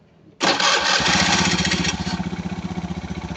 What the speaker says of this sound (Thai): ติดเครื่องให้ฟังเสียงเครื่อง